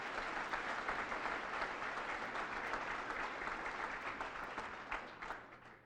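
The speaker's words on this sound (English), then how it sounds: "so why don't we give them one last round of applause" Sustained applause from an audience at an awards event held at a Marriott, dense clapping that stays loud and steady throughout before easing slightly at the end.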